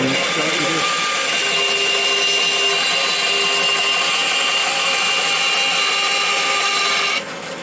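Yew wood billet shaved lightly by a power tool, giving a steady, loud high whine with a light cutting hiss that runs unbroken for several seconds before dropping off near the end.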